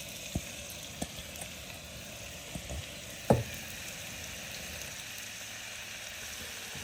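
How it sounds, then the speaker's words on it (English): Onions sautéing in oil in a pot on low to medium-low heat give a soft, steady sizzle, with a few light clicks of a utensil and one sharper knock against the pot partway through. "So I got my trusty pot here with some oil, ready to saute my onions."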